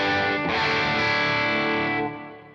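A Les Paul style electric guitar with Imperial pickups rings out a distorted, effects-laden chord that sustains strongly, then fades near the end, loud and alone.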